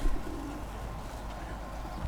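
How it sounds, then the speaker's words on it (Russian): Domestic pigeons coo in low, throaty murmurs, close by and continuous, with a faint rumble of background noise at a bazaar in Kashgar. "Голуби породистые, красавцы прям."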